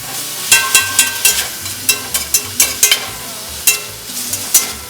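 Taco meat cooking in a pan, with loud scraping stir strokes in irregular bursts over a soft sizzle, close up and with no talking.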